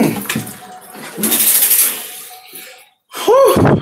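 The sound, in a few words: water running for rinsing off in a bath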